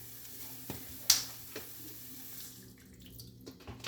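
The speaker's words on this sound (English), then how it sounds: "I'm going to add water." Spring water splashes steadily into a pot, a continuous hissing pour broken by a brief clink near the start.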